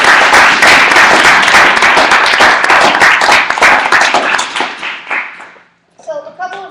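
Loud, close applause from a seated audience, dense clapping that swells and then tapers off over about five seconds before a short pause and a voice begins speaking.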